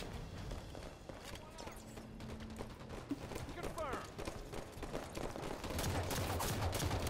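Gunfire in the shooter Halo 5, with quick scattered shots and rapid bursts that sound fairly faint under a player talking on voice chat and game sounds.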